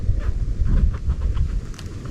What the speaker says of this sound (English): We're gonna turn that fire up.